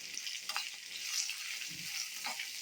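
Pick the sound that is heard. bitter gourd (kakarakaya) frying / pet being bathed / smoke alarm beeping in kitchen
bitter gourd (kakarakaya) frying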